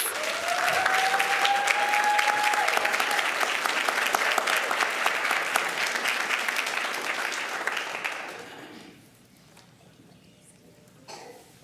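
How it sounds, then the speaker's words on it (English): A school board meeting audience gives a sustained round of applause for a standing PEAMS student team, dense clapping filling about eight seconds before fading out, with a brief faint voice at the start. "let's go ahead and give them a big round of applause"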